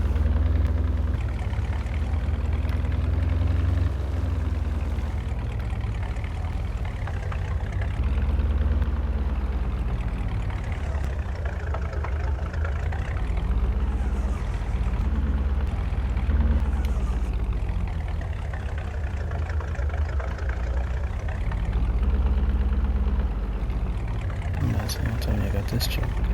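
A truck engine in Farming Simulator 22 rumbles steadily and rises and falls in pitch as it revs, close and continuous throughout, with a person talking over it.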